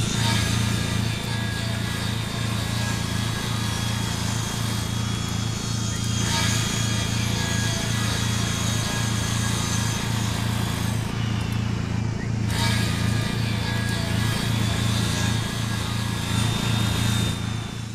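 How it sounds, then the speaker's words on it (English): Steady, rhythmic sawing of wood in the farming video game Ranch Simulator, a continuous motorized buzz with regular pulses throughout, loud and close. "I'm just going to cut this wood up"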